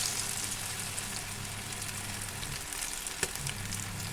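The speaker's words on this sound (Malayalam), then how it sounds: "നേരത്തെ തയ്യാറാക്കി വെച്ച ചിക്കൻ ലെഗ് പീസ് എണ്ണയിലേക്ക് ഇട്ട്" Two marinated chicken leg pieces fry in hot oil with a steady, dense sizzle and crackle. The sound is close and constant, with no voices.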